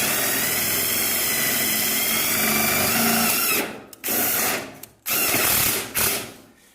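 A power drill drives stainless steel screws into solar panel mounting rails, whirring steadily for several seconds, then stopping and restarting in short bursts as the screw is backed off and snugged up, loud and close.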